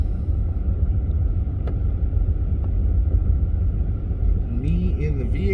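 A vehicle drives along on the way to town, its low engine rumble and road noise steady and close throughout, with a brief whistling squeal near the end.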